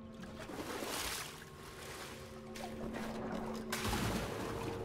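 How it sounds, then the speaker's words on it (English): A fall into water in the video game Wolfenstein: The New Order: a rushing, washing splash that swells, eases, then surges again, steady and fairly quiet with no talking. "We fell in the water."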